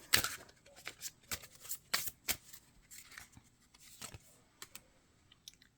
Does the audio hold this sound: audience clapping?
no